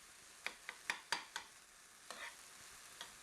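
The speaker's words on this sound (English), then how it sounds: "Stir this together" Utensil stirring ingredients in a sizzling pan for a spring brunch recipe, with a series of sharp scraping clinks in quick succession, then softer scrapes over a quiet frying hiss.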